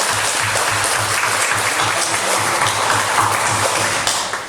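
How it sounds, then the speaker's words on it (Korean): Steady applause from a church congregation during a Sunday service, many hands clapping continuously at close range, fading slightly at the end. "우리 박수를 한번 한번"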